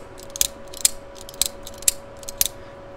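A folding knife flicked open with its lock pulled down, giving a few sharp metallic clicks and snaps spaced about half a second apart, close and fairly quiet over a faint steady hum.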